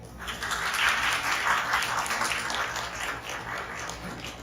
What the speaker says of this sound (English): let's please give another round of applause to Ryan and his incredible work raising money for the Research Center